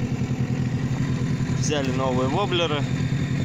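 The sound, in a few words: small boat motor running on the Kama river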